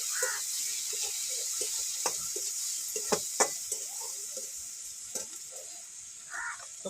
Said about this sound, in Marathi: टमाटर टाकते थोडा. दोन्ही मिक्स करून तळलं की घेऊन येते.